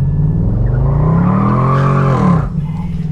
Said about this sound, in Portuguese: Camaro é forte pra fazer um drift